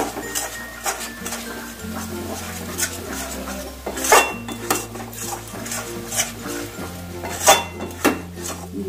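A spatula scrapes and clinks against a pan while Bombay duck (lote) fish jhuri is mixed with coriander, with a few sharper metallic knocks over background music.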